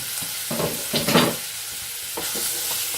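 Bacon frying in a pan with plenty of rendered fat, a steady close sizzle with a few louder bursts of crackle and scraping stirs partway through.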